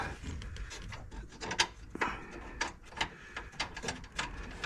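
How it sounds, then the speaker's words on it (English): A nut threaded onto the steering column of a 1970 Buick Wildcat, producing close, quiet metallic scraping, rubbing and small clicks in an uneven rhythm, with no talking. "Let me put this nut on real quick and I can look at it."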